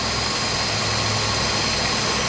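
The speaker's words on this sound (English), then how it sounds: "you actually heard the engine kind of go down a little bit because the alternator is going into a full loop" A Ford Mustang engine idling with its alternator looped into full output, a steady low rumble and hum with a constant hiss above it, close and unchanging, with no voices.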